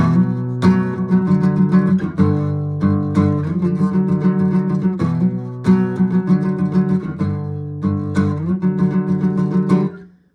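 An electric guitar plays a repeating power-chord riff from a song, a steady rhythmic pattern cycling through several chord shapes, loud and close with no talking.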